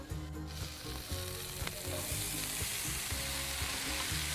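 Thinly sliced cabbage hitting a hot pan for an Indian-inspired dish: a dense, continuous sizzle and crackle with a few stirring knocks, close up, steady and unbroken, and no voices.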